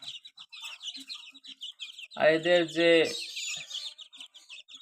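Hill naked-neck chicks about twenty days old on a farm, peeping in a steady high chatter throughout, with a brief burst of louder, lower calling or a voice in the middle; a person speaks briefly.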